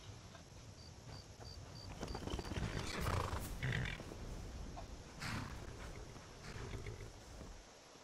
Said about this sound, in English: this house does come with a horse, a Palomino horse